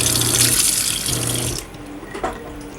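Water gushes under pressure from a tap in an Airstream trailer, a loud steady rush for about a second and a half before it is shut off, leaving quiet drips and faint clatter.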